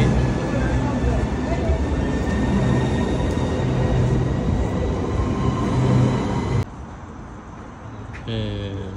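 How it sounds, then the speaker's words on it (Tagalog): A train rumbles past at close range in Canterbury, England, a loud steady roar of wheels on rails for most of the clip before it cuts off abruptly, with voices talking over it. "Train."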